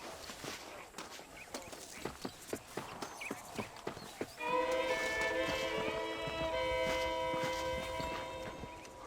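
Horse hooves in Red Dead Redemption: a horse clip-clops at a steady walking rhythm for several seconds, distinct close hoofbeats, then gives way to a sustained tonal wash of music while quiet hoof sounds fade under it.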